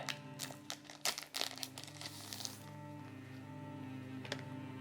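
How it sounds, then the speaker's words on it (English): Plastic packaging crinkles and crackles in quick bursts as a pair of packaged scissors from a Lykke mystery box is opened up close, and the handling then settles into faint rustling. "I am gonna start off with the scissors and just opening them up just to show you guys what they look like"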